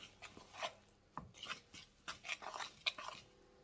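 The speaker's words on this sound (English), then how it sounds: "we're going to start stirring and bringing that together" A spoon stirring sweet potato pie filling in a bowl, faint irregular scraping and rubbing strokes in quick short bursts, close and quiet with no talking.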